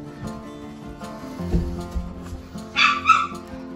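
Three-week-old West Highland White Terrier puppies whimpering and yipping close by, a few short high whines with one louder cry near the end.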